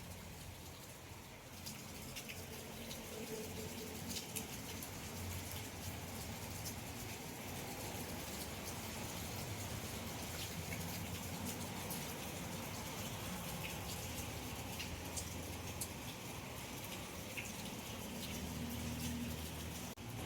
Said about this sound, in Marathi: पाऊस कसो होतो मी आता खिडकीतनच दाखवते